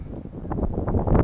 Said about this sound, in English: This wind is strong.